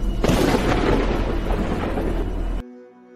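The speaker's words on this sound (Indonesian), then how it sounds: "Tak lama kemudian, petir menyambar" A thunder strike sound effect, a loud, sustained rumbling crack and roar of a lightning bolt lasting over two seconds before cutting off abruptly, heard alone.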